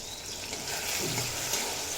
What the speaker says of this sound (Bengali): টমেটো দিয়ে পর দেড় দু মিনিট মতো ভেজে নেব যাতে টমেটো নরম হয়ে যায়